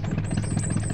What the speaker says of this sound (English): Alf was out on his tractor.